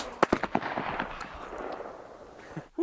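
A shotgun fired at a skeet target on a shooting range, a sharp loud blast with a few quick echoing cracks that fade into a long reverberant tail.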